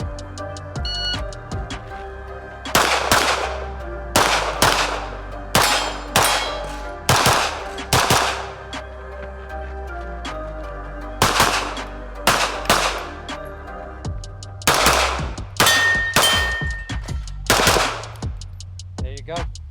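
A pistol fires quick, loud bursts of shots with short pauses in between during a USPSA competitive shooting stage, some hits ringing off steel targets. No one speaks during the string.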